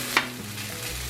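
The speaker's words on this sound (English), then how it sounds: "And we're going to start stir frying the rice." Rice is stir-fried in a hot pan with a steady, close sizzle and a sharp utensil clack at the start, with no voices.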